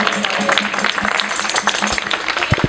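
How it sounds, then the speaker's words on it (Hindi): A church prayer-meeting congregation in Karachi claps for its elders, a busy patter of hand claps with a low steady hum underneath, over within a few seconds. "तालियां इनके लिए।"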